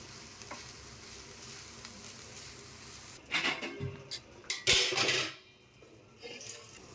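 Momo filling stirred and scraped around a hot pan, a few loud clattering bursts of stirring after a stretch of quiet, low kitchen background, then fading off.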